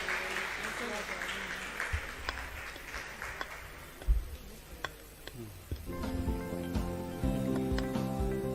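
Applause from a quiz audience for the contestants, a scattered patter of claps that thins out and gives way to people talking.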